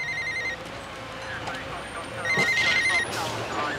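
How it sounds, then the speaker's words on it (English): A telephone rings in repeated electronic trills amid busy police-station noise from a 1997 drama, with people talking over it. "Will somebody answer that bloody phone?"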